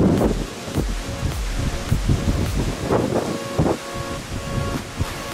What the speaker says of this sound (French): il y a un vent, j'arrive même pas à tenir la caméra avec le vent qu'il y a